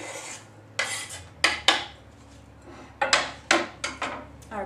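Chopped green pepper scraped into a bowl of creamy blue cheese dip, heard as a run of sharp spoon-on-bowl clinks and taps in irregular bursts, close and fairly loud, without talk.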